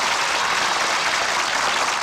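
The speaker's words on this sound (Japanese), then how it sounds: "拍手を送ろう。" An audience at a Japanese show claps in a dense, steady burst of applause that stays loud throughout, with no speech over it.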